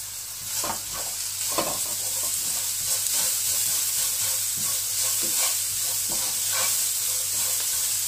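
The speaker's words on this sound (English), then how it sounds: "We are going to saute this for about 2 minutes." Onions, green chilies and garlic sauté in a hot pan, with a continuous crackling sizzle and a regular series of spatula scrapes and stirs, close and steady, no one speaking.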